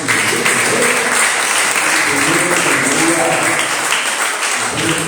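A church congregation claps steadily for the Lord during a Portuguese-language worship service, loud and continuous, with faint voices mixed into the dense applause.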